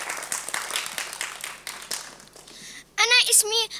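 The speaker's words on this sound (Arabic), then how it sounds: "تصفيقة تصفيقة تصفيقة تصفيقة" A studio audience at a children's TV show claps in brisk, scattered applause under chatter, and then a voice breaks in loudly at the end.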